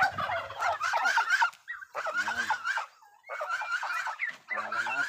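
Turkeys gobble and fowl call in repeated, close, loud bursts with short pauses between them as chicks and chickens are released into a poultry pen.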